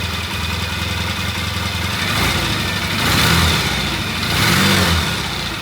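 A cold engine idles just after its first start, a steady close mechanical rumble that swells slightly in a few gentle surges before settling back.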